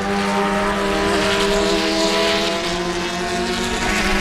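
Race cars roar past in a continuous loud engine whine with shifting harmonic tones during a Love Bug race at Sebring, steady and close with no voices.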